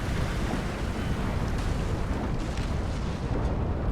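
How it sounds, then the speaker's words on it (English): A ship blows up during a Napoleonic naval battle at Trafalgar in the Napoleon Total War video game, a loud sustained roaring rumble with crackling debris over wash of sea, continuous for several seconds without talk. "Oh, a big explosion there."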